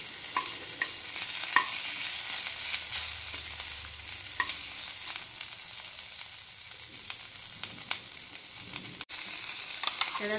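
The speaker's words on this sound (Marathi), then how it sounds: "आता हे बटर वितळल्यावर मी त्यात ही आलं लसूण पेस्ट थोडीशी घातली आहे" Ginger garlic paste and ground cumin sizzle steadily in melted butter in a pan, a constant frying hiss broken by light stirring clicks and scrapes.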